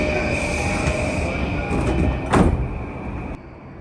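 A JR East commuter train pulls out of Hamamatsucho station, rolling steadily with a constant electric motor whine, a brief louder rumble and wheel squeal midway, then a sudden drop in level near the end.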